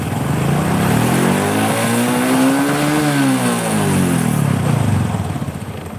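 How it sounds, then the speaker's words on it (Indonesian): A Toyota Supra engine revs steadily and loudly at mid RPM with a rough, sputtering stutter. The pitch climbs and falls back over several seconds, close to the exhaust, with no talk. "Ini berebet di RPM tengah ya teman-teman, berebet gitu."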